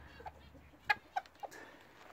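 Free-ranging chickens in a smallholding garden give three short, soft clucks in quick succession around the middle, fairly close but quiet, over a calm, faintly rustling outdoor background with no talking.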